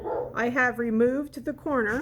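A dog barks and whimpers in a few short yelps close by, mixed in with a person talking.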